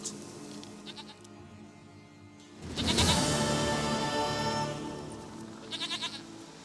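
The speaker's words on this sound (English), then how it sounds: "Goat of mine, dearest, sweetest goat." A goat in The Witcher 3: Wild Hunt lets out one long, loud, wavering bleat over a steady background hum of game ambience. Faint chiming tones come before and after.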